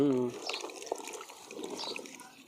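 Raw turmeric roots are rinsed in a bucket of water to clear off soil, with light splashing and sloshing close by after a brief burst of speech.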